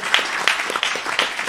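Audience applause at a live Telugu raaga avadhaanam performance, a steady wash of many hands clapping with a few sharper bursts, moderately loud and without talk.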